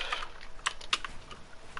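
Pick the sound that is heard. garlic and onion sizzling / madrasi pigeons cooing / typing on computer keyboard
typing on computer keyboard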